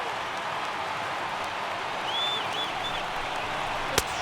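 Stadium crowd in MLB The Show 18 during a Giants at Marlins baseball game, a steady broad roar that swells slightly midway as fans rise and cheer, with a sharp knock near the end.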